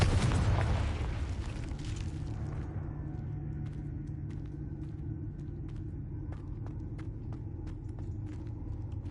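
A Confringo fire spell explodes in Hogwarts Legacy with a heavy, close blast at the start that decays into a long low rumble, with faint ticking and crackling scattered over the fading tail.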